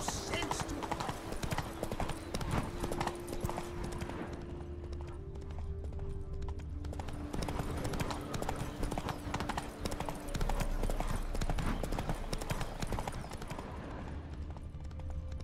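Hooves of Roach, a horse in the video game The Witcher 3: Blood and Wine, clip-clop steadily at a gallop under game music and spoken dialogue throughout.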